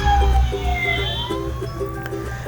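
A wailing ambulance siren rises and falls over a low engine rumble, fairly loud and close, with no voices.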